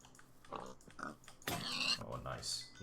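A pig in the game Minecraft giving short oinks and grunts, mixed with game sounds and a voice talking over them.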